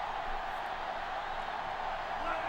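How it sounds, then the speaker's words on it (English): A raucous stadium crowd at a college football game in Greeley, Colorado, in the video game NCAA Football 06, a steady distant roar of cheering that holds evenly throughout. "It's a raucous crowd here in Greeley, Colorado."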